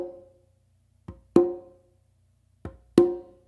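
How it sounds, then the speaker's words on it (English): A conga played by hand: a soft ghost-note tap followed at once by a louder ringing open tone, the pair heard twice with a long gap between, close and alone. "what you're going to do is you're going to do a ghost note or a tap with your non-dominant hand on the conga,"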